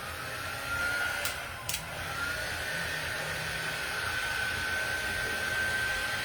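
A hair dryer blows continuously with a steady whirring rush and a thin whine as it dries paint on tin can decor, with a couple of brief clicks early on.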